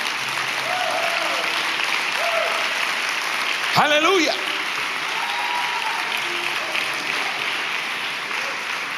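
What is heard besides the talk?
church congregation applauding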